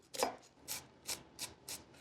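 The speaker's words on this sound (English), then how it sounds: "So I'm gonna begin by chopping a half of an onion." A knife chops half an onion on a cutting board in a home kitchen, five soft, crisp strokes at an unhurried, slightly uneven pace, close and quiet with no talking.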